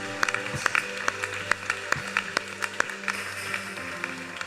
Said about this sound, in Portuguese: Dê um aplauso de louvor a Ele.